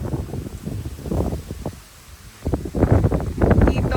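Strong wind buffets a car-camping tent site at Splendor Hills in loud, irregular gusts with rumbling microphone noise, easing briefly midway before surging again, and no one talking.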